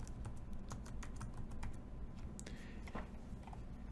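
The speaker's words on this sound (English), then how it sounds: "I'm going to type in White Sands." Rapid clicking keystrokes on a computer keyboard, close and fairly quiet, a quick burst of typing that slows into a few scattered taps.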